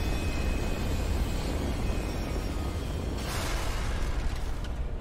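A loud, sustained roar of an explosion in Halo 3, dense rumbling noise with a bright burst partway through, continuing without break, heard while riding an elevator.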